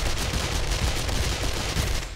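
Rapid gunfire from a weapon in the survival video game 7 Days to Die, a dense stream of shots filling the whole stretch at steady loudness without letup.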